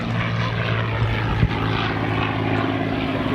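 A P-51 Mustang, the Quick Silver, passes at an airshow at Dover Air Force Base, its propeller engine giving a steady, loud droning roar that holds throughout with a brief bump midway.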